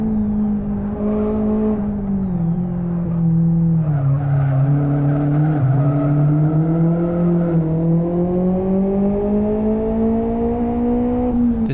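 A standard XR GT Turbo is power-sliding in the Live for Speed racing sim, its engine droning steadily with a rising and falling pitch under a long, continuous tyre squeal, loud and close throughout.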